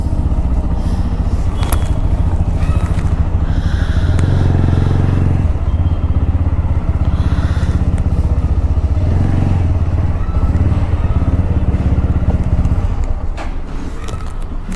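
A motorcycle engine rumbles loud and close in a crowded spot, a steady throbbing idle with some revving and clatter, running continuously before fading slightly at the end.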